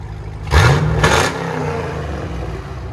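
A Chevy Camaro SS with a 6.2L engine and Borla ATAK exhaust revs sharply twice in quick succession, loud and close, then settles into a rumbling idle.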